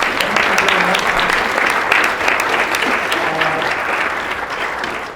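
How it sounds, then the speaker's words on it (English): Audience applause fills the room after a conference talk on crop residue management, a steady, dense wash of clapping that holds for about five seconds and tapers slightly at the end, with a faint voice underneath. "We have enough time for a rousing round of applause."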